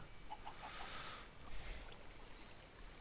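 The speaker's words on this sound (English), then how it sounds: "Still hearing chickens." Minecraft chickens cluck in a short burst of a few quick notes, faint and distant over quiet ambient game noise.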